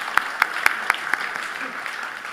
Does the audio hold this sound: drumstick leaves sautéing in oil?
no